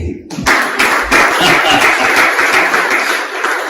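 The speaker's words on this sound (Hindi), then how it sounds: "अपने लिए ताली बजाइए" A church congregation in Canada bursts into applause during a sermon, a loud, sustained clapping that starts after a brief pause and holds steady to the end.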